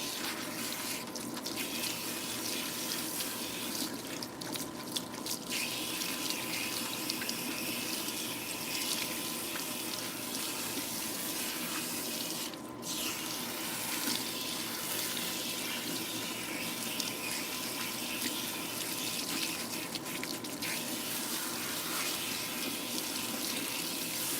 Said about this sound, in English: I'm gonna use this time to rinse out all of this spritz that I have in my hair